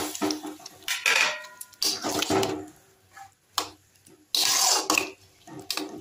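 Water is poured into fried spice paste in a pan, mixed with clinks and knocks of utensils against metal in several loud, uneven bursts separated by short pauses.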